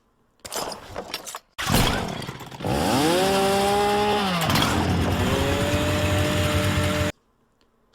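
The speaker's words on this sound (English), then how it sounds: "Suddenly, the studio was filled with the harsh sound of a revving chainsaw." A chainsaw revs hard in two long surging bursts, its engine pitch climbing, holding and then dropping again, after a short rattling start. It sounds close and loud, with no talking, and cuts off abruptly.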